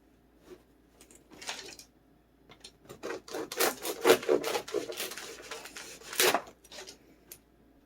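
A serrated bread knife saws through a loaf of bread, several rough rasping strokes in bursts with short pauses between, close and moderately loud, with faint knocks against the board.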